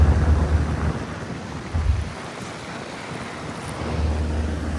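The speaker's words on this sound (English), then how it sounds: "I have no idea what kind of fan motor that is." A Lennox central air conditioner's fan motor runs outdoors on a very hot day, giving a steady, loud broadband whoosh with low rumbling swells and no voices.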